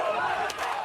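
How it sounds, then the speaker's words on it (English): A League of Legends Worlds Play-In crowd in an esports arena cheers as a steady, dense roar of many voices. A few brighter swells of excitement rise briefly near the end. "UOL fans, ravenous, the crowd looking for some action here."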